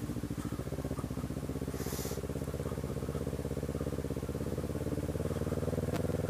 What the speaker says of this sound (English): Motorcycles on ice.